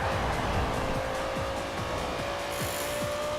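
A Porsche Carrera GT in Forza Horizon 4 drones along at a steady engine pitch while tires squeal intermittently through corners, a continuous close roar from start to finish.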